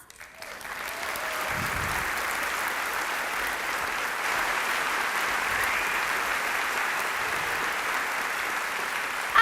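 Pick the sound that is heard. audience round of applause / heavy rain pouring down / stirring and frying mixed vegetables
audience round of applause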